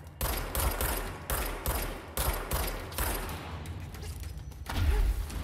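Heavy rifle shots in the action game Control, a series of loud booming reports spaced roughly half a second apart, each with a short rumbling tail, followed by a lower thud near the end.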